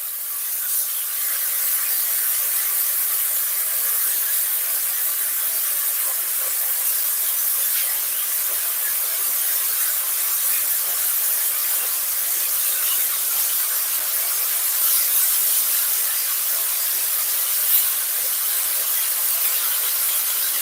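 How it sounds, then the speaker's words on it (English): Steady, crackling sizzle of chicken frying in a hot pan for curry, continuous and close, with no voices. "You hear that nice sizzling sound."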